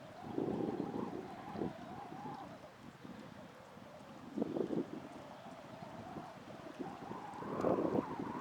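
Strong gusts buffet the microphone on a bass fishing boat, with low rumbling wind noise rising and falling steadily throughout and faint water movement underneath, no talking.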